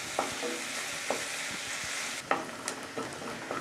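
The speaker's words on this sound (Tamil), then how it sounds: "வெங்காயம் நல்லா வதங்கி வரட்டும்." Sliced onions with a little salt fry in a pan for a chana masala gravy, giving a steady close sizzle broken by several scraping stirs of a spoon, with no one speaking.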